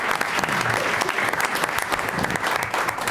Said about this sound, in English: Let's give the kids a round of applause